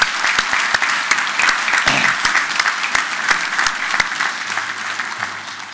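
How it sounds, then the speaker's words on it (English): An audience at a police department promotional ceremony applauds a retired police captain, sustained dense clapping with sharp individual claps standing out near the microphone, holding steady for several seconds before thinning slightly at the end. "Would you please join me in a round of applause thanking retired Captain Cochran for 29 years of service?"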